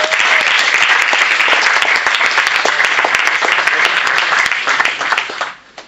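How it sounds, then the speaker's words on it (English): Audience at a Startup Weekend closing ceremony breaks into loud, dense applause that holds steady for several seconds and then fades out at the end. "Give him a round of applause."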